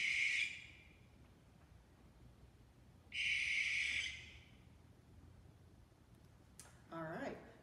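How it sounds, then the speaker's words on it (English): A barn owl gives harsh, hissing screeches: two long bursts, the second about a second long, separated by quiet, followed by a brief rougher sound near the end. "All right, so that's the sound that a barn owl makes. That sounds more like a screech to me, or a scream."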